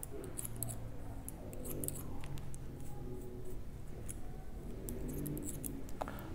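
Scissors snipping men's hair close up while a comb guides the strands, making a quick, continuous series of crisp snips with no talk.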